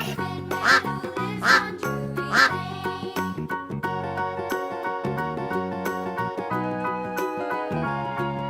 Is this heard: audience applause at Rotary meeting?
no